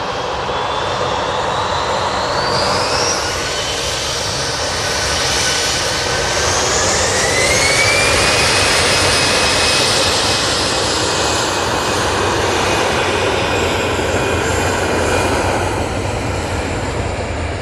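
An Etihad jet airliner waits near the runway at Manchester Airport, its engines producing a loud, continuous roar with a rising, whining tone that swells and holds steady throughout.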